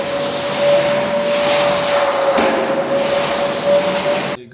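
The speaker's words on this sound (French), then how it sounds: "Après, on va passer l'aspirateur." A vacuum cleaner runs loud and close with a constant whirring roar and a steady tonal hum, then cuts off abruptly at the end.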